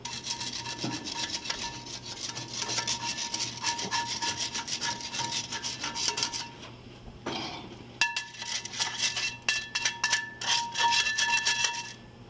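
Repeated rough scraping strokes against a dirty, well-used metal frying pan, close and rhythmic, with a brief pause and occasional clinks.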